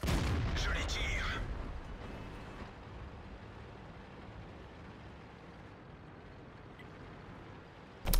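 In World of Tanks on the Redshire map, an artillery shell hits a tank with a loud booming blast at the start. It fades into a low rumbling game soundscape, and faint talk may sit underneath.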